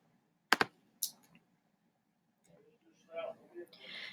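A computer mouse clicks twice in quick succession, then once more, crisp and close, in a quiet room while navigating Google Classroom; a voice talks softly afterward.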